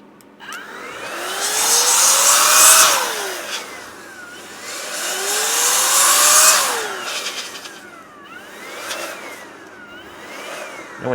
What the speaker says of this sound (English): we can blow all the excess alcohol out too